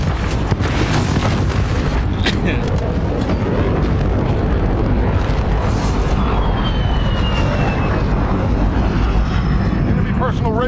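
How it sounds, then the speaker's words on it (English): An enemy VTOL jet in Call of Duty Modern Warfare roars loudly and continuously overhead, a dense engine rumble with booms and gunfire mixed in and a game voice speaking over it. "Enemy VTOL jet inbound."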